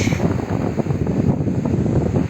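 Warm summer wind blows along the Ayancık shore, a steady low rushing that buffets the microphone without pause and with no one speaking.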